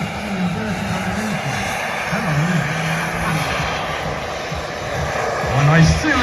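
A model jet aircraft flies and hovers at an international model air show, its engine giving a continuous loud whine and roar that swells toward the end, while someone talks over it.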